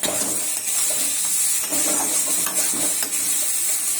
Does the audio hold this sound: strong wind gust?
no